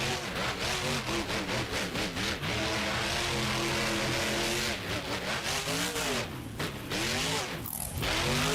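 Monster truck engine in a BeamNG arena freestyle event at a custom Nashville stadium, loud and continuous, revving and surging in pitch with throttle swings, close up and alone without talk.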